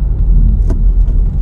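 A manual transmission car's engine hums low and steady from inside the cabin as gas is fed at the clutch bite point, with a brief faint click midway.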